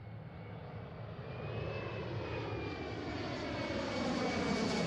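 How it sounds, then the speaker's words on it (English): Airplane arriving at Seattle airport during evening arrivals, a loud, steady engine roar that builds gradually as the aircraft draws nearer, with a faint whine riding on top. "let's just watch airplanes"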